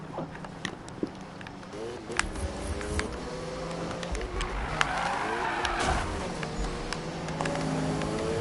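A race car drifts through turns in the video game Need for Speed 2015, with revving engine tones and squealing tires sweeping up and down, while someone talks over it.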